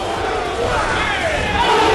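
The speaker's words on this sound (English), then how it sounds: "And the crowd getting into this." Crowd at the Street Fighter X Tekken Cross Assault grand finals roars and cheers steadily for two seconds, swelling slightly louder toward the end, with shouts blending into the noise.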